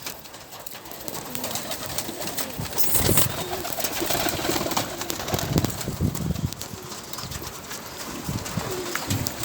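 Pigeons coo repeatedly nearby, low throaty calls rising and falling over a busy background, with occasional rustles and a brief flutter.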